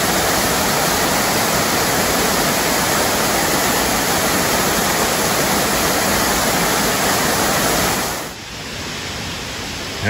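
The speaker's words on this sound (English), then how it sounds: "I made a stop here for lunch at the Long Creek Fall" The roar of Long Creek Falls, a small waterfall carrying lots of water, fills the air as a loud, steady rush that dips briefly near the end.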